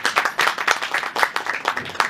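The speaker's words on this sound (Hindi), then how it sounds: "जोरदार तालियां बजाइए" Applause at a film trailer launch event, a moderate crowd clapping in uneven bursts for about two seconds, fairly close and lively without speech over it.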